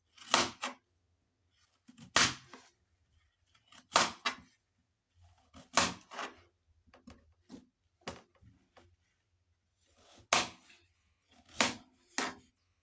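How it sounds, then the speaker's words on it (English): A knife chops potatoes into quarter-inch pieces on a board, sharp distinct cuts in uneven clusters of two or three, close and alone without talk. "So I'm going to cut like this for the rest of my potatoes."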